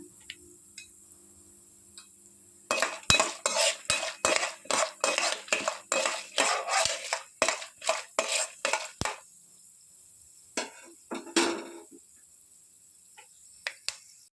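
A spoon stirs and scrapes in a pan while frying in ghee, a burst of quick rhythmic metallic clinks close by after a quiet start, trailing off into a few scattered taps, no talk.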